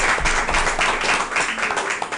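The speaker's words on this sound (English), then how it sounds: "Give them a big round of applause there." A crowd at a flag football competition clapping and applauding loudly and continuously, a dense close wash of hand claps.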